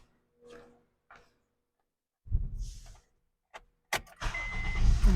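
A 2008 Honda Accord engine cranks and catches after a few faint clicks, then settles into a steady idle, close and fairly loud, with no talking.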